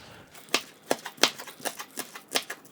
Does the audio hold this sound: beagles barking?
no